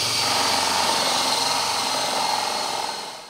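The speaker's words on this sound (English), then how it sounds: "I'm going to drill a couple of holes into the back of the box here" A power drill bores holes into a wooden box, whirring continuously and loudly at close range, a steady grinding buzz that eases off at the very end.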